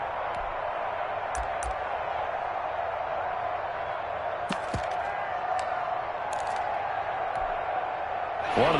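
A stadium crowd in a PS4 football video game gives a steady, sustained roar, with a few faint sharp clicks and a brief swell near the end.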